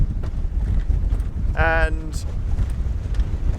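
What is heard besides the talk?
strong wind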